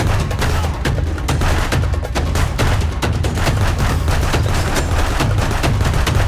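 Rapid, continuous bursts of gunfire in the video game Contraband Police, loud and dense, with overlapping shots and heavy booms throughout.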